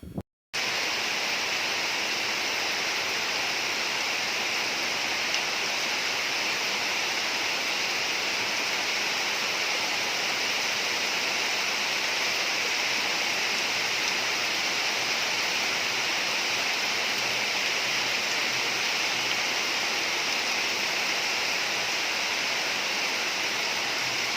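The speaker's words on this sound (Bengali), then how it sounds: "তোমরা একটু বৃষ্টির আওয়াজটা শোনো।" Heavy, continuous downpour pours without pause, a dense, even hiss that holds steady throughout, loud and close with no voices or other sounds.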